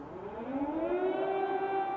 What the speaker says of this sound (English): Sirens are now more frequent, and the sound of distant explosions too.